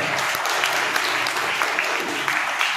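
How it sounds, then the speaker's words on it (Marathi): An audience at a 26 January school event gives enthusiastic applause for the parents, a dense, continuous clapping from many hands that fills the whole stretch, with faint voices underneath. "ज्यांनी वेळ दिला त्या पालकांसाठी एकदा जोरदार टाळ्या वाजवा"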